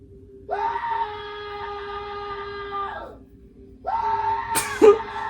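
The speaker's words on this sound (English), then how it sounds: "Stop screaming." A person lets out two long, loud screams, the first sustained for several seconds and the second shorter, ending in a sharp burst.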